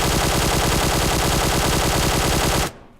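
A QBZ assault rifle fitted with a flash hider fires a long, loud, unbroken full-auto burst in PUBG Mobile, rapid evenly spaced shots continuing for several seconds before cutting off abruptly, with no talk.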